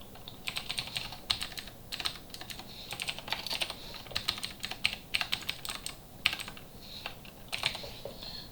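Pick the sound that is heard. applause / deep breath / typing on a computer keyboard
typing on a computer keyboard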